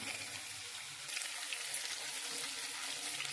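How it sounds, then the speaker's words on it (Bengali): Quiet, steady sizzling of fish frying in hot oil previously used for frying papad, a soft hissing crackle that continues without pause. "যেহেতু পাপড় ভাজা তেল দিয়ে মাছটা ভাজছি"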